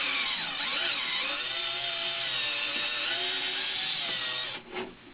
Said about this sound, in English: I just keep the drill steady and gun the trigger a little bit